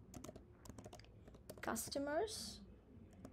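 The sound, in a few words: typing code on a computer keyboard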